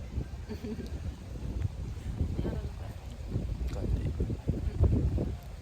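Wind gusts buffet the microphone at an outdoor sawmill, a low rumbling roar that rises and falls in uneven surges throughout.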